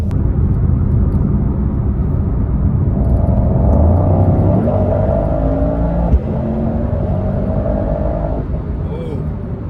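A Mercedes-AMG GT63 accelerates hard on an open road, its engine note rising steadily in pitch through the gears as a loud, continuous roar heard from inside the cabin, with a brief knock partway through.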